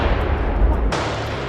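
Heavy blast and gunfire in combat, with men storming a trench using grenades before advancing with rifles: a continuous deep booming roar for most of the moment, then an abrupt cut to a thinner, steady rumble.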